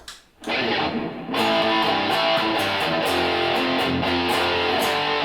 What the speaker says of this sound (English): A minor to F, and that part goes 3 times.